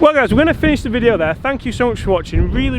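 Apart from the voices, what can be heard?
No distinct noise like a dog, phone or traffic.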